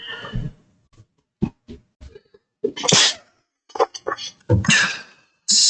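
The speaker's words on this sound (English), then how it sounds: "It's just sometimes you sneeze." Several sharp, sudden sneezes burst out during an indoor art session, the loudest near the middle and end, between short bits of nearby talk and quiet breaths.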